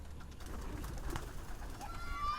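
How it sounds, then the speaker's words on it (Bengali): Bombay pigeons cooing softly in a loft, a few low murmuring coos over faint background noise, with no speech. "আসেন আপনাদেরকে আমরা কবুতরগুলো দেখাবো"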